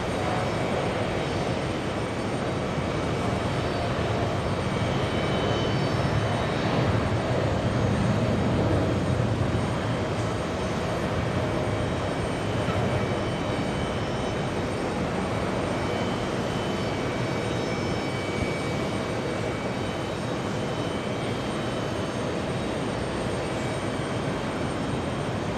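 An American airliner's jet engines roar at JFK airport in summer heat, a loud, sustained, broadband rumble that holds steady throughout without any voices.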